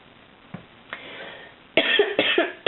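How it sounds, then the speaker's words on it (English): A few small tickly coughs, faint and isolated at first, then a louder cluster of three or four close together, indoors at a crochet session beside a candle. "I'm so sorry about my tickly cough."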